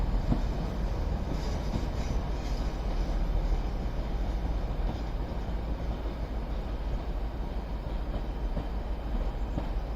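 A Class 158 diesel multiple unit moves through Crewe station, a steady rolling rumble of wheels and engine throughout, close and continuous, with faint squealing from the wheels on the rails.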